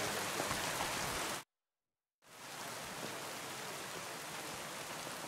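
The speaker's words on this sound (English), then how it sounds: "Hissing down rain." Heavy rain pours in the medieval open world of Kingdom Come Deliverance 2, a steady dense hiss that cuts out to silence for a moment before returning just as strong.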